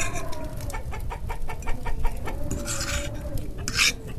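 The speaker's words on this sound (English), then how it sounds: "What's that noise? Oh, right, there's chickens in here." Chickens cluck inside a settler's cabin in a Minnesota winter, a run of rhythmic close clucks followed by a louder squawk near the end, with no talking.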